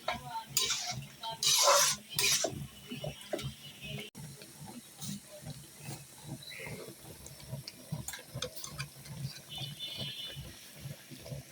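Meat being stirred in a cooking pot while making a Bengali beef kidney curry, with steady soft scraping and clinking against the pot and a few louder metallic clatters near the start.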